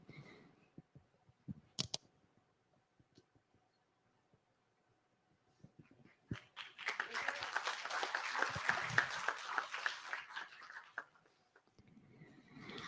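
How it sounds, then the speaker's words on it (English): A round of applause at a business conclave for small and medium enterprises, arriving after a few scattered claps and quiet stirring; the crowd's clapping swells for several seconds, holds steady, then fades out. "Give a huge round of applause to Shri B.B. Swain, Sir."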